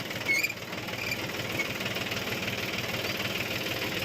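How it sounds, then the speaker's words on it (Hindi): A farm tractor that has just come back from threshing idles nearby, its engine giving a steady, even knocking rumble that carries on unbroken after a brief bump at the start. "ये ट्रैक्टर भी अब आ गया है थ्रेसिंग करके"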